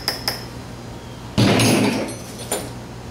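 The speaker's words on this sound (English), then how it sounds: "Trying to tighten the snap ring back up." A snap ring on an air-cooled Volkswagen transaxle gives a few sharp metallic clicks, then a louder clank that rings out before one last click.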